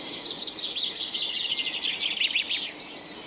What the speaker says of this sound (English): That is a chaffinch.